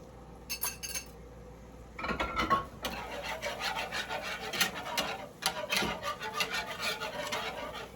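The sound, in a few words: stirring thyme into lasagna sauce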